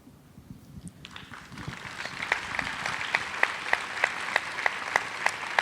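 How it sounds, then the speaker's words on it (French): A conference audience at a climate talk tied to COP 21 bursts into applause that swells from a few claps to sustained, dense clapping, loud and close with some sharper individual claps standing out. "je voyais que tu applaudissais"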